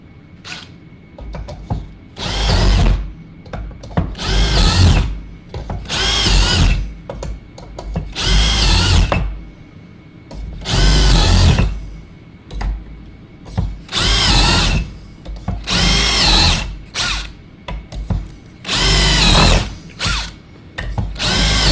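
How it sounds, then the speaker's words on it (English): Power drill whirring in repeated bursts of a few seconds each while drilling a ski for binding mounting, with short pauses between, loud and close. "Let's drill it."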